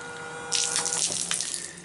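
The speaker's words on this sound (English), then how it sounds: "it pumps the water straight out of the containers" Water gushes from an electric pump's outlet as it draws water out of storage containers on a camping trip, a steady splashing flow that starts abruptly and runs on alone, close and fairly loud.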